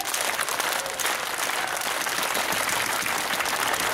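A crowd at a rally at the Texas state capitol claps hands in dense, steady applause that holds at an even level from start to finish.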